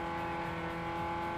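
Pursuing cars in NFS Underground 2 droning steadily from close behind, a sustained engine hum at moderate level with no talk.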